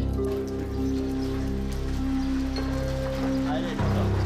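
Steady rain falls in Lofoten, Norway, as a constant close hiss of drops on surfaces, with sustained tonal sounds layered over it throughout.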